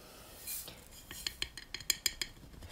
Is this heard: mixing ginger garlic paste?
yes